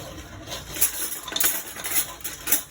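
Metal spoon clinking in a home kitchen: a string of bright, light metallic taps and chinks, fairly close, coming in irregular quick bursts with no talking.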